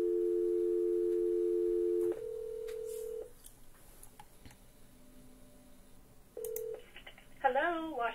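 Loud steady telephone tones come over a speakerphone while a number is dialed: a long sustained tone, then a shorter stepped tone and a brief beep, followed by ringing and voices speaking faintly near the end.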